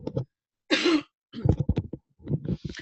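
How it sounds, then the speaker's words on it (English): A single harsh cough bursts out between stretches of a person talking nearby, loud and close, lasting under a second. "And I have to cough, excuse me."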